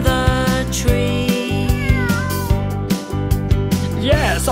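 A cartoon cat meows a few times over a loud backing of steady music, in a children's English-lesson cartoon where the cat is stuck up a tree.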